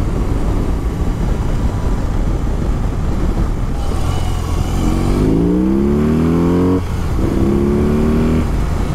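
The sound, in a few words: BMW R18 cruiser motorcycle engine accelerating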